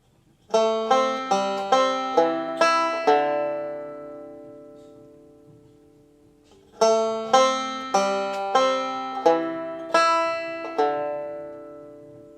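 Banjo picking the melody of "I'll Fly Away", two bright phrases of plucked, ringing notes separated by a long sustained decay, played solo and close with no talking.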